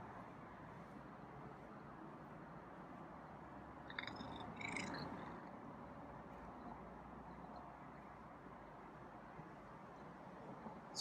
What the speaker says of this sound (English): That's a purr, I think.